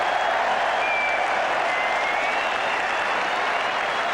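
A cricket crowd at a 1981 Ashes Test between England and Australia roars and applauds from a distance in a continuous, even wash of sound, with a faint whistle briefly rising through it.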